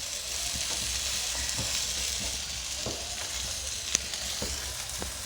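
An egg and vegetable pancake fries in a pan with an even, soft sizzle that runs throughout, broken by faint ticks and a single sharp click.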